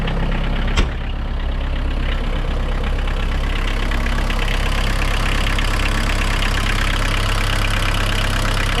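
A Mitsubishi MT226 compact tractor diesel engine idles steadily and loudly up close, a constant low rumbling chug with a rattly knock, after one brief sharp click.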